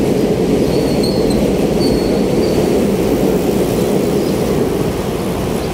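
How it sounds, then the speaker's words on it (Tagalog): Loud, continuous rumble of a new LRT light rail train passing close by near City Hall in Manila, with faint wheel squeals on top and no voices. "Ito yung bagong LRT, mga bagong train."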